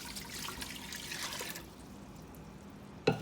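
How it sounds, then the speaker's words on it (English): Water pours steadily into a container for fabric dyeing for a second or two, then trickles off into quiet, ending with a short knock. "put some water in there."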